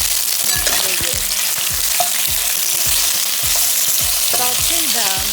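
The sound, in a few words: pork ribs sautéing in caramelized sugar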